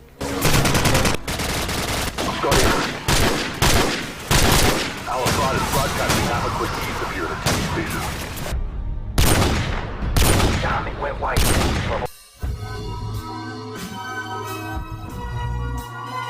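Weapon gunfire in the video game Call of Duty 4: loud, dense bursts of shots in rapid succession, a brief gap, then more firing, with a ringing tone and game ambience trailing at the end.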